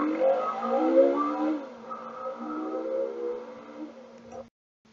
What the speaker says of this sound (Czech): Tak toto byla motorka.